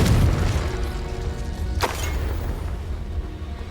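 A Confringo explosion spell in Hogwarts Legacy lands as a short sharp burst just before the two-second mark, set within a steady low rumble of ongoing battle sound.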